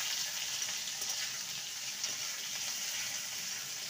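Ginger paste and chopped tomato sautéing in a pan with fried potatoes, a steady close hiss and sizzle running evenly throughout with no breaks.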